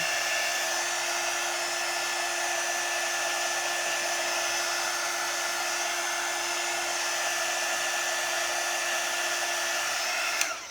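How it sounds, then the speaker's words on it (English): A heat gun blows steadily on a Dollar Tree birdhouse craft project, a constant close whooshing hum with a fixed whine that continues for about ten seconds before cutting off. "I think I want to plug in my other heat gun."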